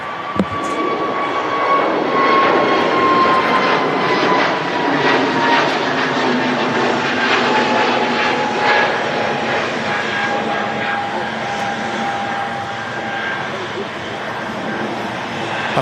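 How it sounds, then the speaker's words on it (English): Virgin Atlantic Airbus A350-1000 jet at Manchester Airport gives a loud, sustained engine roar with a whining tone that slowly falls in pitch, heard from outdoors throughout. "Virgin Atlantic A350 1000"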